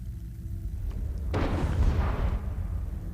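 A cannon fires in the video game Planetary Annihilation with a deep rumbling boom that swells and fades over about a second, heavy and low, with no voice.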